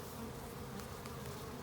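Honey bees buzzing steadily inside a queen cage during a spring hive installation, a dense, continuous close-up drone with no pauses and nobody speaking.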